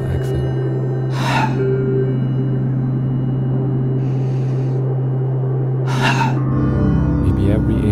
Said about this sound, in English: Go a little bit faster for 5 to 10 breaths.